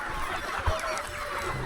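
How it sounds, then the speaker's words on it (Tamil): Roosters on a free-range native chicken farm in Ranipet district, Tamil Nadu, crow and cluck faintly at a distance, a steady low farmyard murmur with no talking. "எல்லா சேவலுமே இப்போ கூவுதுங்கண்ணா"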